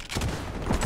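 Gunfire in xDefiant, a short burst of rapid shots under steady game noise.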